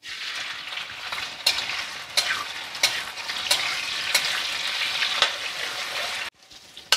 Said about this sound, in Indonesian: Panaskan minyak secukupnya, kita mau goreng udangnya.